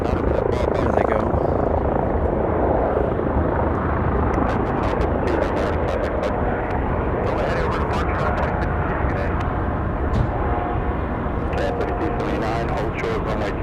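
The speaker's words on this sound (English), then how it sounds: "We should have our lifeguard helicopter back to Duke Hospital out now." A lifeguard medical helicopter flies at Raleigh-Durham International Airport, its rotor chop and engine roar loud and steady throughout, with slight swells as it moves.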